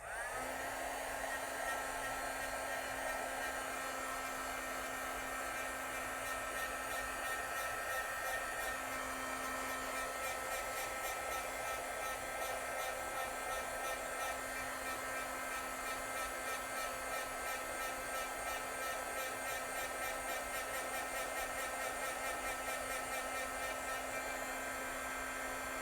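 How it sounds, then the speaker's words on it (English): A handheld heat gun drying Cricut wood veneer blows a steady, continuous whirring hiss for nearly half a minute, constant in level and close by, with no voices over it. "heat gun."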